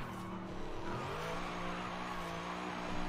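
Mercedes-AMG C63 driving in Forza Horizon 5, a steady, loud engine note that rises in pitch as it revs, continuous throughout with no talking.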